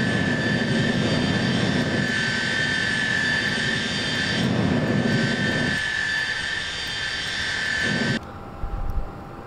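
A light airplane climbing after takeoff, its engine a steady, loud drone with a constant whine, then cutting to a quieter cabin hum near the end, with no talk.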